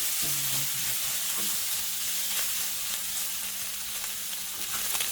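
Pork belly stir-frying in its own rendered fat crackles and sizzles steadily up close, with a faint tone briefly audible near the start and no talking.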